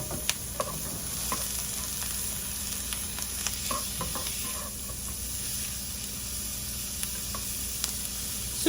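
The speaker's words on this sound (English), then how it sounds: "We're just going to saute our onions." Chopped medium onion sautéing in a hot pan, a steady broadband sizzle with occasional stirring clicks and pops, close and continuous with no talking.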